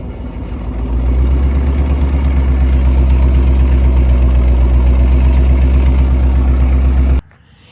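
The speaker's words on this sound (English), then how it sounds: "which was causing my exhaust to do a lot of rattling" A Dodge Charger R/T idles with a loose, rattling active exhaust, giving a steady loud low rumble with a fast buzzing rattle throughout, close to the microphone, before it cuts off abruptly near the end.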